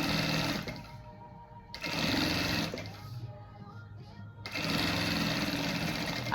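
A sewing machine stitches the top finishing of a fabric bag in close, loud bursts of rapid whirring, stopping twice for short pauses before running again.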